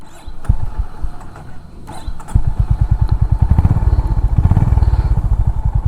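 A Honda H'ness CB 350 motorcycle cranks with a few thumps, then its single-cylinder engine catches and settles into a loud, steady, rhythmic close-up idle.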